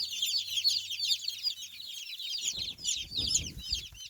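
Turken naked neck chicks peck and cheep in a brooder, a dense, continuous chorus of high peeps, with soft tapping and rustling sounds near the end.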